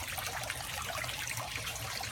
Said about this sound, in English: you can kind of see the water going into the tubes right here